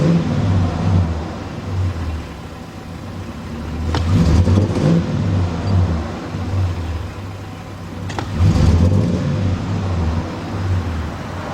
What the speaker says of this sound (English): Feel the sputtering like it has a misfire in it.